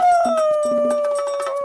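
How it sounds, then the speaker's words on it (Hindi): Loud, drawn-out howling with a steady, slightly falling tone, and brief yelping notes breaking in beneath it; several foxes call at once, close by. "वो लोमड़ भी लोमड़ियों के सुर में सुर मिलाकर चिल्लाने लगा।"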